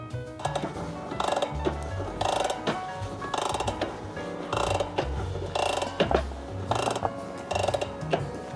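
A bicycle cassette goes onto the freehub body of a VAM² SL bike build, with repeated bursts of metallic ratcheting clicks in a steady rhythm over faint background music.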